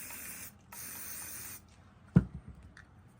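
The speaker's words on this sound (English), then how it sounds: "So what we want to do is spray them with some hairspray." Hairspray sprayed from an aerosol can onto painted craft balls, heard as two steady hissing bursts of about half a second and one second close by, followed by a soft knock and faint handling sounds.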